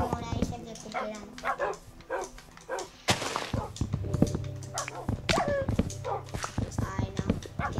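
A dog in the Minecraft video game yips and whimpers in quick repeated bursts, mixed with game sound effects and background music, while people talk over it.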